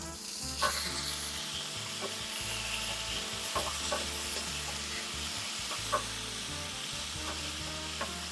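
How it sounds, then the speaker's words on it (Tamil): Vegetables and strained white sorghum for upma are stirred in a hot pan, giving a steady sizzling hiss broken by regular scraping strokes of the spoon, close up with no voices. "நல்லா கிளறி விட்டுடலாம்"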